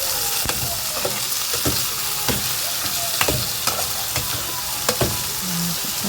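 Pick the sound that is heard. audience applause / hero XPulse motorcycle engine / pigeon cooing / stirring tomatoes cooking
stirring tomatoes cooking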